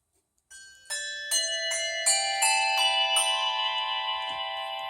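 Handbells hung on a handbell tree are rung one after another up a scale, about seven clear metallic strikes at a steady pace. Each tone rings on and layers into a bright sustained shimmer, close and alone.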